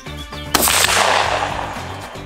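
A Winchester 12 gauge shotgun fires once at a Soviet SSh-40 steel helmet, producing a single loud, sharp blast that rings out and decays over about a second and a half.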